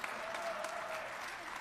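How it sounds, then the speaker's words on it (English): An audience at a home design awards presentation applauds in a brief, faint, even patter of many hands, with a voice lightly audible through the clapping. "Round of applause."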